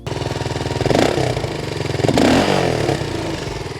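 A 2024 BSA Goldstar 650 motorcycle engine runs steadily with a throbbing exhaust, its pitch rising and falling as the throttle is blipped a couple of times, close and loud.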